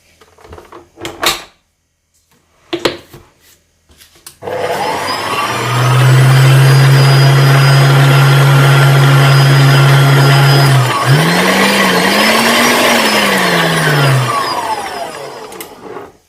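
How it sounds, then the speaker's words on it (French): A food processor mixing flour into bagel dough, its motor starting after a few short clatters and then running with a loud, steady whine that dips and wavers briefly before settling and finally cutting out. "dans un robot, on va mettre la farine en 3 fois"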